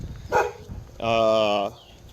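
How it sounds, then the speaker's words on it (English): Dogs bark nearby: a short sharp yelp, then a longer, drawn-out tonal bark or howl, heard briefly against a quiet background. "there's just other dogs"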